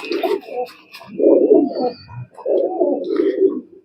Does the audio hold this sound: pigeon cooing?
yes